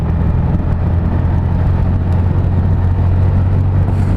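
Honda VFR1200 DCT motorcycle engine while riding, a loud, constant close droning hum with steady low rumble and wind roar, no pauses.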